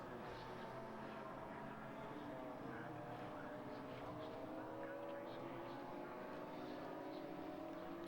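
Rear-wheel drive BMW race cars run at Brands Hatch circuit, a steady mix of engine drone heard faintly in the background under continuous race commentary.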